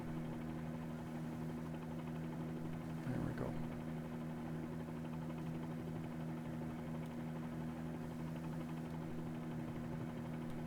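A Bell 47 helicopter hovers in Microsoft Flight Simulator, its steady engine and rotor drone holding level throughout, with one brief spoken remark near the start.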